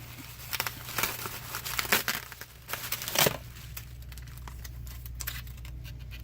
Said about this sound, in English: Fold over all the tape on the edges